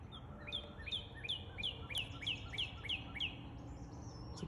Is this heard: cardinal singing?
yes